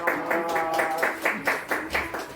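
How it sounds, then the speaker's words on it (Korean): A church congregation claps in steady, rhythmic bursts to welcome a guest at a Sunday service, with voices or music carrying underneath. "우리 박수로 환영하고 축복합니다."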